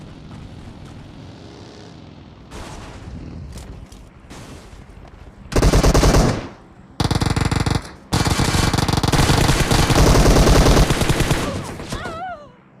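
Loud bursts of automatic gunfire in the mobile battle-royale game PUBG Mobile, two short volleys followed by a long sustained burst, over a quieter backdrop with faint in-game sounds.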